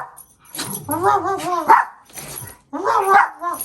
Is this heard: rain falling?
no